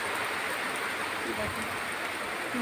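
Heavy rain pouring steadily at home, a dense continuous hiss with no breaks, fairly loud and close throughout.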